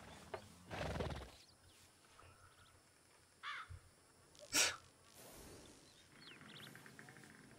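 A horse on a dirt road in the RedM western roleplay game, with a distant whinny, a few hoof clip-clops and a loud snort standing out over quiet ambience and faint birds.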